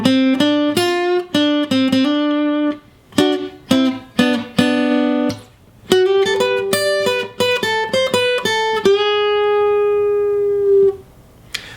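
A guitar plays a solo, short melodic licks of clean, bright plucked notes in bursts with brief pauses, close and loud, ending on a long sustained note that fades.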